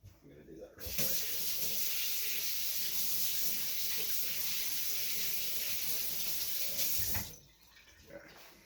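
Cold tap water runs into a kitchen sink over boiled eggs for about six seconds, a steady close hiss and splash that starts and stops abruptly, with quiet handling noise on either side.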